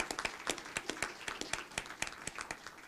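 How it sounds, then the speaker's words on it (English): An audience at an innovation challenge event applauds its sponsors with a thin, sparse patter of claps, fairly quiet and evenly paced, coming from a small crowd. "So a round of applause for our sponsors."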